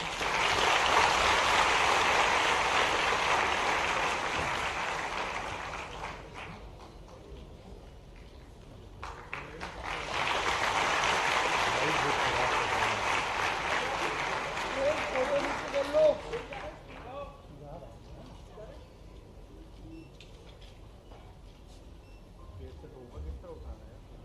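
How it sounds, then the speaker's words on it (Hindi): Loud, dense applause fills an orientation ceremony in Bhopal attended by the Chief Minister, rising in two long bursts of about six seconds each and then fading into a quieter hall with scattered voices. "जोरदार तालियों से"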